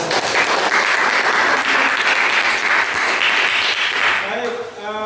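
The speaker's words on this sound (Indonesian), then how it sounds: "Kita beri aplaus untuk kita." Sustained applause from a class of students at the end of a lesson, dense steady clapping that fills the room and fades out near the end.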